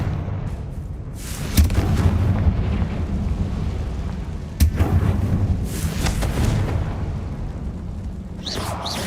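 Confringo fire spell explosions in the video game Hogwarts Legacy, two sharp booming blasts a few seconds apart, each followed by a rumbling, crackling roar, with a brief whoosh near the end.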